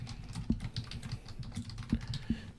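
Typing on a computer keyboard in an RStudio console, a quiet, close patter of irregular key clicks with a few sharper taps, no speech.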